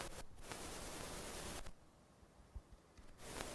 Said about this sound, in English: The air's blowing. There's always that little bit of white noise in the background.